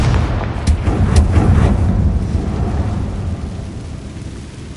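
The Confringo blasting spell in Hogwarts Legacy, a loud rumbling explosive blast with a few sharp cracks that fades into a long, low, roaring decay.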